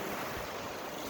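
Lake Erie waves wash onto the shore at Kingsville, Ontario, a steady broadband rush of surf with some wind buffeting the microphone, continuous and fairly close, with no voices.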